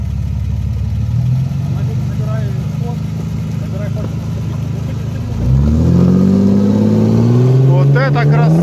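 An off-road vehicle idles on ice, then its engine revs up with a rising, loud roar that sustains near and strong, while people talk over it.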